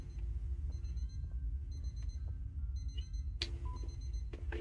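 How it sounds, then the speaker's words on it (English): Repeating electronic beeps from an alarm in the horror game Obsideo sound in short evenly spaced bursts over a deep, constant rumbling drone, with no one talking. "We have an alarm again."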